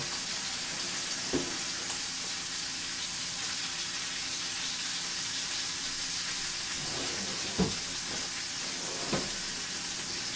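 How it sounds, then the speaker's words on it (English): Beef sears in a smoking-hot pan on maximum heat, a steady broad hiss and sizzle running the whole time, with a few brief soft knocks scattered through. "I'm going to add my beef. There we go. So we're just getting a nice sear on this."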